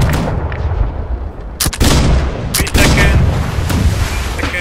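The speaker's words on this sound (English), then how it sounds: "Load the cannons on the port" Ship cannons firing in the naval combat game Blackwake: loud booming blasts, with two sharp volleys near the start and middle and further shots after, over a constant roar of battle noise.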